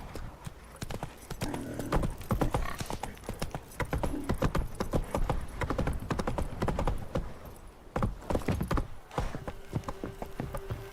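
Horse hooves clip-clop steadily in The Witcher 3: Wild Hunt, a brisk, close rhythm of hoofbeats that pauses briefly near the end before resuming.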